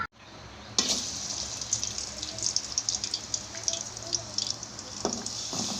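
Onion is added to a pan for a dried fish curry and starts to fry, opening with a sharp hiss and then settling into a soft, uneven sizzle with scattered crackles and pops, close and fairly quiet.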